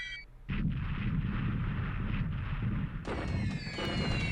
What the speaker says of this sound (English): Bombings over Hong Kong